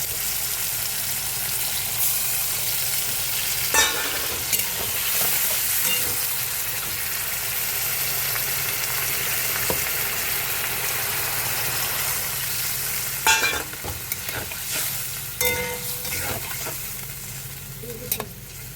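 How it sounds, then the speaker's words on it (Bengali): Green tomatoes fry in a pan with a steady sizzle, and a spoon stirs and scrapes the pan with intermittent clinks and scrapes throughout, close and continuous with no talking. "দেখো টমেটোটা বেশ আমার ভাজা ভাজা হয়ে আসবে"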